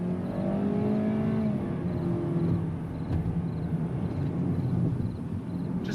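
A car pulls away under throttle with a steady engine drone that climbs in pitch, loud and continuous throughout, with no talking.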